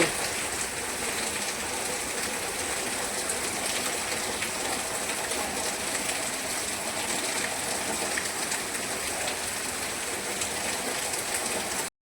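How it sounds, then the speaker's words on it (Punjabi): Heavy rain pours down steadily, a dense continuous hiss with no breaks, close and loud throughout. "ਅੱਜ ਵੀ ਦੇਖੋ ਸਵੇਰੇ ਤੜਕੇ ਹੀ ਮੀਂਹ ਪੈਣਾ ਸ਼ੁਰੂ ਹੋ ਗਿਆ ਬਹੁਤ ਤੇਜ਼ ਮੀਂਹ ਹੋ ਚੁੱਕਾ ਹੈ"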